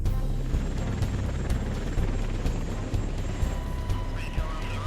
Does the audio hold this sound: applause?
no